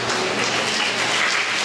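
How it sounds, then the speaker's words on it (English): Audience applause at a Sanfest primary school preliminary competition in Trinidad and Tobago, a dense, steady wash of many hands clapping at even loudness throughout. "No, we want everybody to clap."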